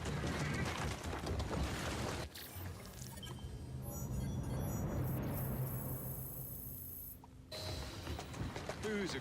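A horse whinnies and its hooves clip-clop in the Victorian London setting of Assassin's Creed Syndicate, set among game ambience and mechanical clatter, with a loud passage that drops into a quieter stretch before returning.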